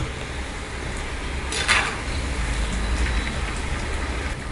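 Small rice bonda balls fry in oil with a dense, steady sizzle like rain on a surface, swelling briefly partway through.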